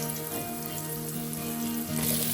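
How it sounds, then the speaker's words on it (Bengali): Shrimp drop into a pan of frying spices, setting off a crackling sizzle that swells twice over a steady background hum, close and moderately loud. "এখন আমি জাস্ট একটু নেড়ে দিয়ে মাছগুলো দিয়ে দেবো চিংড়ি মাছ"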